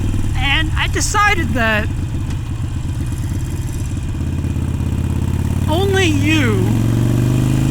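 A Harley motorcycle engine drones steadily while riding, a loud low rumble throughout with someone talking over it in short phrases.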